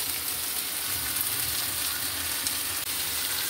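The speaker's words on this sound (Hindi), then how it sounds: "अभी हम इनको फ्राई होने देंगे" Chicken pieces frying on a flat tawa griddle for a karahi dish, a steady loud sizzle holding evenly throughout with a small pop near the end and no voices.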